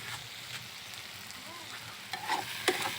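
Dried chepa shutki fish frying with onion and chili in a Mymensingh-style home kitchen, a steady low sizzle with a few clinks and scrapes of stirring near the end.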